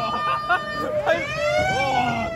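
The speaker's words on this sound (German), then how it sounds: "Wollen wir diese Sirene, ne?" A wailing siren on a fairground ghost-town ride at a spring fair in Aachen sweeps up and down close by, loud, while excited riders shout over it.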